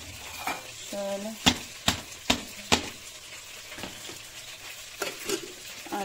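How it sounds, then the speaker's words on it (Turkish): Food roasts and sizzles in a pan with a steady frying hiss, broken by sharp clicks of a utensil stirring and scraping against the pan, up close. "Sesi duyuyor musunuz? Sağlıkça biraz kavrulsun."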